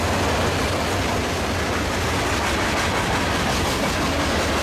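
A Union Pacific mixed freight train passes close by on a cold winter day, a loud continuous roar of rolling cars and wheels that holds steady throughout with no voices.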